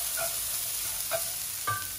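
Soy sauce noodles sizzle and hiss in a hot pan while a utensil stirs them with a few soft scrapes.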